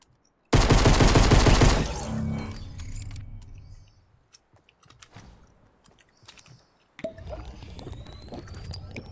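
Shotgun fire in Fortnite opens with a loud, dense burst of blasts, then fades into scattered quieter game sounds, clicks and movement before another burst of activity near the end.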